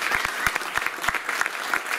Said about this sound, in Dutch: Dus mag een groot applaus voor Marjan Klaas, Arend van Wijk en Renate